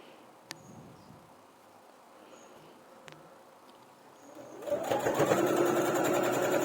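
A sewing machine stitching a men's shirt pocket; a quiet room with a few faint clicks gives way to a close, steady buzzing whir as the machine starts running for the last couple of seconds.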